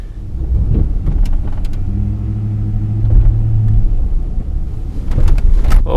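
A car that sat unused for a long time and now has very bad brakes is driven off, its engine rumbling and rising in short revs. The sound is close and steady, with no talk over it.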